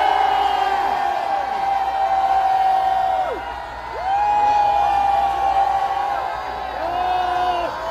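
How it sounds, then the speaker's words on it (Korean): Protesters outside the presidential residence of Yoon Suk-yeol raise a loud, sustained cheer with shouts and whoops. The crowd roar swells, dips briefly midway, then surges again. "우리 저 함성 한번 쳐볼까요? 함성 10초간 발사!"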